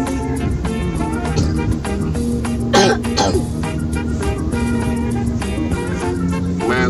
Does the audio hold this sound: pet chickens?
no